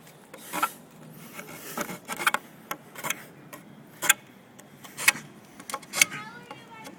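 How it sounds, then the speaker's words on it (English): Serrated edge of an Ozark Trail folding knife sawing in short separate strokes, each a sharp rasping burst, close and fairly loud, with quiet gaps between them. "I'll just start sawing on this top edge here."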